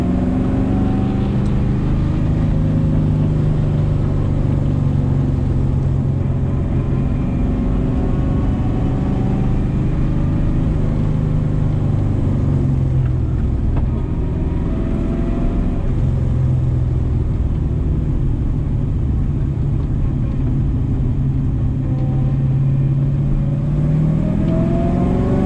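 An LS V8-swapped Mazda RX-7 is driven hard on a busy mountain road. Its engine revs and rumbles loudly and continuously as it rises and falls through the gears, with no talking.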